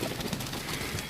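Pigeons at a pigeon sale give soft, low cooing calls, a few overlapping murmurs close by during a short burst.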